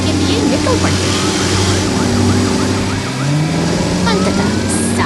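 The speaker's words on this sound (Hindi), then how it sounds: "सायरन की गूंज शांत वातावरण को चीरती हुई सुनाई देती है।" Animated rescue vehicles, a white ambulance among them, race out with wailing, sweeping sirens layered over a loud, constant engine rumble that continues throughout.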